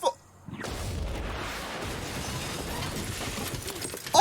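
A grenade goes off in a TV drama episode, a sudden blast that settles into a dense, sustained rumble of debris and noise for several seconds.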